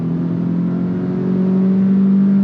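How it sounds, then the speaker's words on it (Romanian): A car engine at standstill in sport mode, a loud, close, steady hum with a strong low tone that rises slightly in pitch as the revs climb just before pulling away. "Ia ceva până să plece, cam așa se aude motorul."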